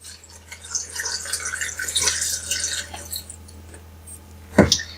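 Milk pours into a blender jar for a berry banana smoothie, a close, steady liquid splashing and trickling for a few seconds, ending in a sharp knock.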